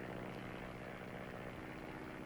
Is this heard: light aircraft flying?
yes